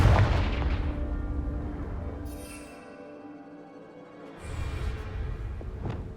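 The Confringo fire spell in Hogwarts Legacy fires with a heavy booming blast up front, then a rumbling decay and a lighter whooshing tail, and a second burst of rumble follows near the end.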